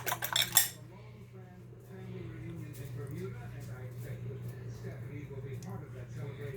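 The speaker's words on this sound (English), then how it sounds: "Give it a quick whisk." A brunch casserole egg mixture is whisked in a bowl: a short burst of bright metallic clinks and scrapes at the start, then a low steady hum with faint movement.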